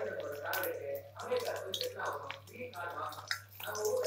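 Okra pieces hit hot oil for frying over a low-medium flame, giving an uneven wet sizzle and spatter with drips and bubbling that swell and fade over a few seconds, close and moderately loud.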